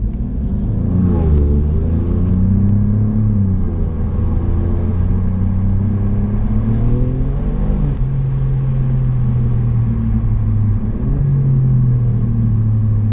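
Alfa Romeo Giulia Quadrifoglio driven on a closed road with its exhaust valves open: a loud, close, continuous engine and exhaust roar that rises and falls in pitch as it revs, with no talking.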